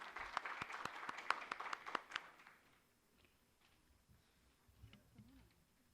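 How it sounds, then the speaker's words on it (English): A small conference audience at an investment event on private credit gives scattered, sharp applause for about two seconds before it quickly dies away into quiet room noise. "I want claps, please."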